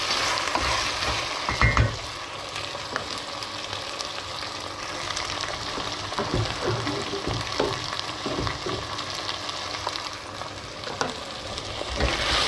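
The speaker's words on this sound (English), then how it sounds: "I've gently started to cook off the potatoes" Potatoes sizzle and fry in a pan, a steady crackling hiss broken by a few louder knocks and stirring scrapes, close by.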